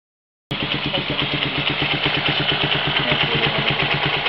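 A Kawasaki Rouser motorcycle engine fitted with an energy-enhancing add-on kicks in abruptly and runs loud and close with a steady, pulsing throb, without talking.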